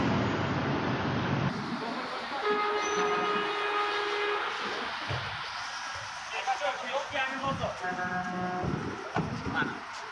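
Rumbling passenger train noise fills the clip in Bukhara, Uzbekistan, with steady horn-like tones and clattering rail sounds, while a voice speaks over it.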